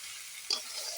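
Chopped tomato stir-fried in a pan for an egg curry gives a steady, soft sizzle with one brief scrape of stirring midway, close and without voices.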